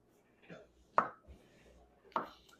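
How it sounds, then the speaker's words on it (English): A knife cuts thin slices from mushrooms stood upright on a board for a pot roast stew, giving two or three separate close, soft knocks on the board with quiet pauses in between. "And then I'm just going to give it some thin little slices."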